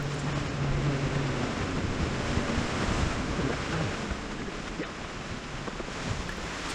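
Sea waves washing onto the shore at the edge of a Pacific beach on the Colomitos to Boca de Tomatlan trail in Mexico, a steady rushing surge mixed with gusty wind buffeting the microphone, no voices.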